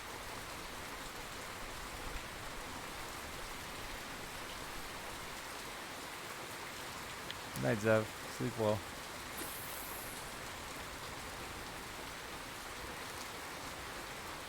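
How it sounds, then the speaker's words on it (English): Steady rain hisses loudly and evenly through a nighttime scene in Russian Fishing 4, a constant wash of drops, briefly overlaid by a spoken goodnight. "That rain is loud,"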